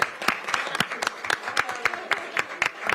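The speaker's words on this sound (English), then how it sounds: "Let's give them a round of applause." Scattered applause from a small group at a county council meeting in Pierce County, a few distinct claps standing out over a soft wash of hand-clapping that continues steadily throughout at moderate volume.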